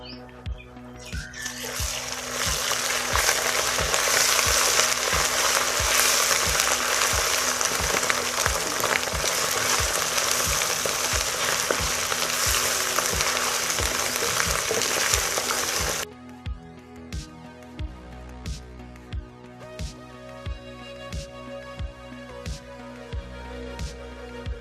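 Garlic-ginger paste frying with browned onions in a pan: a loud, broad sizzle for about fifteen seconds, then a quieter sputter with regular spoon taps and scrapes.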